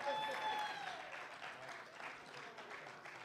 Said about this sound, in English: a big round of applause for our incredible performers this afternoon